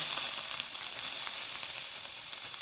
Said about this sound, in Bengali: কড়াতে আমি অল্প তেল দিয়েছি এবারে আমি পেঁয়াজ কুঁচো দেব